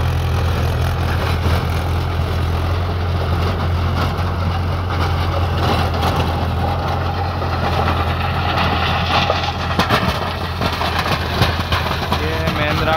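Mahindra 575 DI XP Plus tractor pulling a 6.5-foot Mahindra gyrovator through a farm field, a steady loud low diesel drone with constant churning noise throughout, no pauses.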